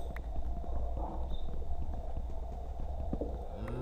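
Horse hooves clip-clopping in Minecraft, a steady stream of soft, close thuds across the whole stretch with faint background game ambience.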